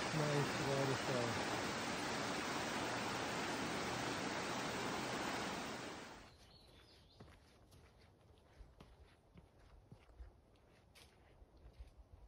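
A waterfall beside the Appalachian Trail near Davenport Gap: a loud, steady rushing roar of falling water that fills the first half, then cuts off abruptly, leaving quiet trail sounds with scattered footsteps.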